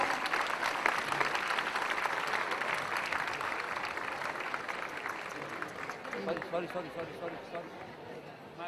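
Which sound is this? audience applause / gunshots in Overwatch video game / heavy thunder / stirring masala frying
audience applause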